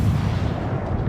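A British Tier I cruiser, Black Swan, fires a salvo of naval gunfire in World of Warships, heard as a loud, dense, continuous low boom rumbling for the whole stretch with no talk over it.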